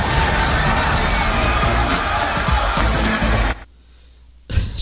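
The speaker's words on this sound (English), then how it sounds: "it gets really, really loud from the crowd" A League of Legends esports arena crowd roaring and cheering loudly as a match ends, a dense sustained wall of shouting that cuts out abruptly, then briefly swells again.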